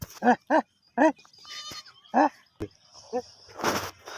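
A goat standing near a tomato field gives several short, nasal bleats in a quick series, then a pause and another bleat, with rustling and other outdoor noises near the end.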